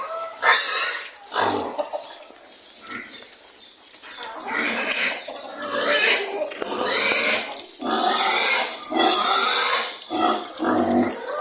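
Newly weaned piglets grunting and squealing in repeated loud bursts throughout, close by, with a busy cluster of overlapping animal calls.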